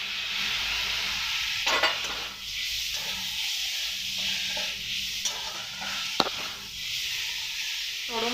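Tomato, capsicum and onion sautéing in a pan: a steady close sizzle with repeated stirring and scraping strokes, plus a few sharper clinks, and no talking.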